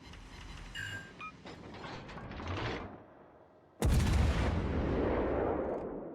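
Warship guns firing in the naval combat game World of Warships Legends: rumbling mechanical noise, then a sudden heavy booming salvo that roars on as a sustained broadband blast.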